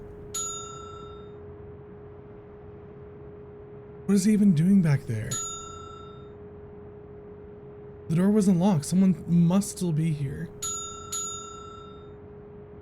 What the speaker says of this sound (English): Don't ring the bell more.